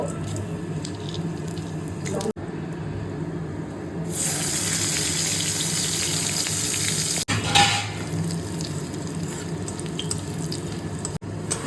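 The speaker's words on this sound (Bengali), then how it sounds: "আগে চিংড়ি মাছটা ভেজে নেব" Prawns fry in a pan with a steady, nearby sizzle that swells into a louder, brighter hiss midway, with a few brief interruptions.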